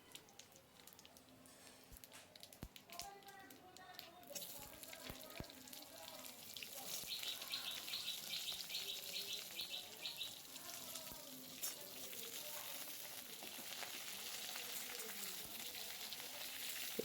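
Eggplant pieces hit hot oil spiced with five-spice seeds for a Bengali mixed vegetable dish, and a soft sizzle swells into a steadier, fuller frying hiss, fairly quiet, with faint clinks and background noise.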